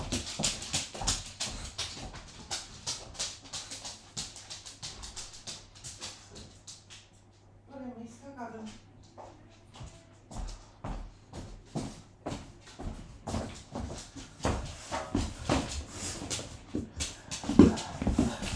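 A dog indoors gives a long run of sharp, rapid barks, with a brief high whimper in the middle before the barking resumes close and loud.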